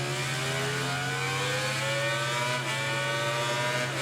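A Suzuki motorcycle engine in the racing video game MotoGP 19 whines steadily at high revs, pitch sliding slowly downward under engine braking, loud and continuous with no talking.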